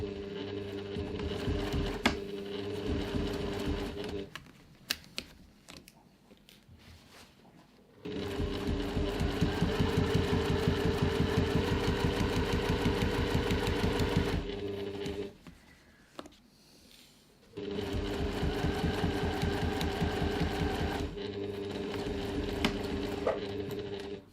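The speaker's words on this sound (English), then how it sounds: "now I'm just stitching the bottom of the pocket to the bag" A sewing machine top-stitches the bottom of a pocket onto a reusable fabric grocery bag, running in long steady rapid-stitch stretches of several seconds each, broken by brief quieter pauses, close and clear with no talking.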